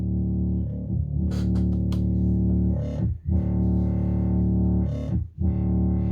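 A buzzy, distorted Hydrasynth Desktop synthesizer drone with an LFO sweeping the filter rhythmically open and closed, producing a pulsing wah-like movement, with brief dips in level.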